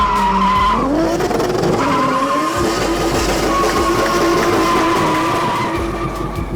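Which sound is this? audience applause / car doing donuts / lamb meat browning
car doing donuts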